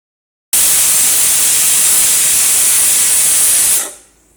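A pressure cooker cooking carrots for halwa vents steam in one loud, sharp hiss that starts abruptly, holds steady for about three seconds, then tapers off.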